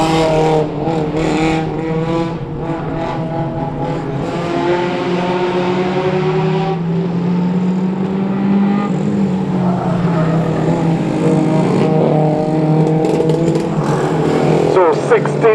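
Micro banger race cars lap at Cowdenbeath Racewall, engines droning and rising in pitch as they pass, loud and continuous, with a commentator talking over the racing.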